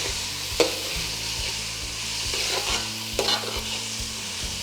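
Ground masala paste sautéed in a pot for a large batch of masale bhaat, with a steady sizzle and spoon scrapes stirring through it; a couple of sharper knocks stand out, close and continuous with no talking.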